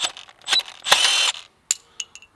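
A cordless Milwaukee M12 compact detail hedge trimmer with an 8-inch blade snips at a wooden dowel rod, giving a few short mechanical clacks and a brief grinding burst, followed by faint ticks in quiet.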